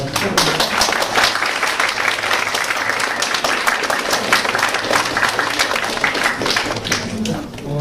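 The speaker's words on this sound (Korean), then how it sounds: "여기 우리 다 같이 박수를 한번 치겠습니다." Applause from an audience at a company's 12th anniversary celebration honoring a large group of promotions, a dense, steady wash of clapping lasting throughout at a loud, even level.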